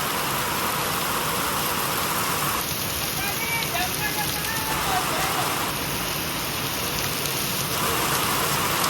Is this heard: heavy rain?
yes